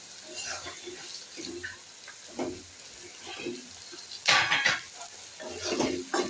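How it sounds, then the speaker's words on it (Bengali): Onions frying in a pan for a savory semolina dish, a steady sizzle with stirring clatter, joined by a louder burst partway through, and faint talk in the background. "এবার পেঁয়াজটাও ভাজা হয়ে এসছে"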